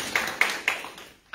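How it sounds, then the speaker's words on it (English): A few people clapping at a health center ribbon cutting ceremony, three or four distinct claps fading out quickly before a brief pause, with faint murmuring in the room. "Let's give that a round of applause"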